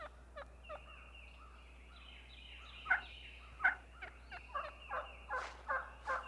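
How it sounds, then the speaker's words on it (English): Wild turkeys give assembly calls at daybreak in the woods, a series of gobbling yelps repeated with a clear echo, rising toward the end, moderately distant over a quiet background. "Assembly calls echo through the woods."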